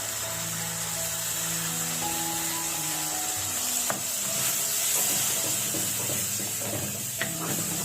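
Ground tomato paste poured onto roasted onion and garlic in hot oil for a Tamil kara kuzhambu, giving a steady close sizzle with stirring scrapes and a few sharp clacks near the end.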